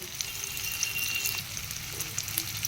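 Onion, tomato, black cumin, whole cumin and bay leaves frying in a pan, a soft steady sizzle with faint crackles and a light clink or two, close but quiet.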